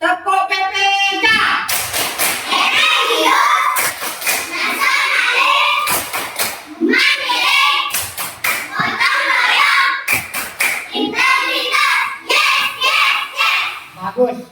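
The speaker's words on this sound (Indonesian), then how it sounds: "Tepuk PPK." Schoolchildren in a classroom perform a rhythmic group clapping routine, sharp claps in patterned bursts interleaved with loud chanting voices, pausing briefly between sections.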